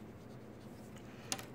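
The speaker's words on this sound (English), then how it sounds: "I could go ahead and shade on the one side, go back and make it a little darker" A pencil shades on brown paper in quiet, soft scratching strokes, close and faint, with one sharper tick near the end and no voices.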